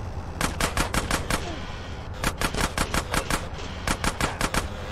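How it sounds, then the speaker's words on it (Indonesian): Rapid bursts of machine gun fire in GTA San Andreas Definitive Edition, an SMG fight against a gang during a train-chase mission, loud repeated rattling volleys with a short pause between bursts. "Tembak terus Big Smoke, yang benar nembaknya."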